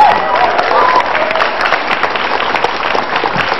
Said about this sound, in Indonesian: Silakan Mas Budiman, kita berikan tepuk tangan.